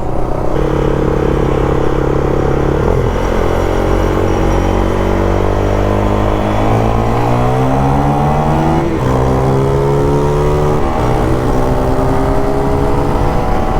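A motorcycle engine cammed for high RPM roars loud and close, its pitch climbing through several revving rises and dips without pause.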